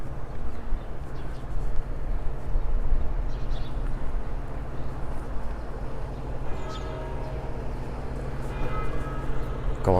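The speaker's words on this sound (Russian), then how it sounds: "Колокольный звон." Church bells ringing across a town square in Pančevo, Serbia, distant and steady, with tolls under a constant low outdoor hum of traffic and street noise.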